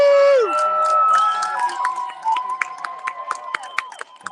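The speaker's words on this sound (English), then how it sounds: "Folks in the audience applauding for those who are dissenting, it sounds like" Audience members at a UC Regents meeting at UCLA clap and cheer for dissenting protesters, scattered sharp claps rising under a lingering tonal voice, the crowd noise moderately close and uneven.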